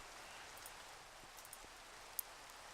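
Rain falling in the game Minecraft Modern Skyblock 2, a soft steady hiss of rainfall throughout, faint and even, with a couple of small clicks and no talk over it.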